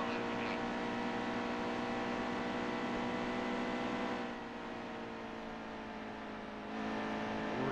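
A NASCAR stock car engine from the racing video game NASCAR Heat 2 holds a steady, loud droning roar with a layered harmonic whine, dipping briefly in the middle before swelling again, with no voices over it.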